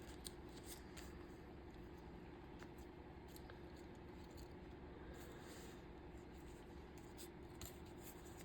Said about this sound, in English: I'm inclined to cut this sticker